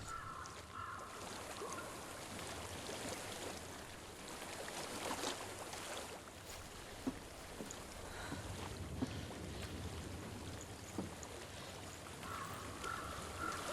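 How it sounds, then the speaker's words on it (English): Water flows and rushes steadily in the background in the video game Hellblade: Senua's Sacrifice, soft and continuous, mixed with a breezy hiss and no talking. "I hear water."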